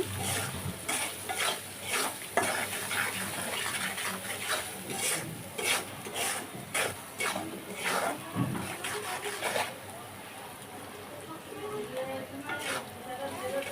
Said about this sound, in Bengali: রসুন পেস্ট দিচ্ছি পরিমাণ মতো দিয়ে আবারও মশলাটাকে ভালো করে আমি একটু কষে নিচ্ছি